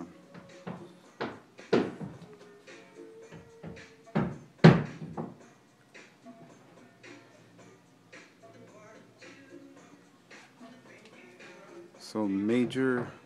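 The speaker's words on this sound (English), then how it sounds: "Some dude's working on the roof, so that's all that banging in the background." Irregular banging and knocking from someone working on a roof, some thuds loud and sharp, others duller, scattered across the clip in the background of a garage where a Cobra replica car is being restored, with soft talk and clatter near the end.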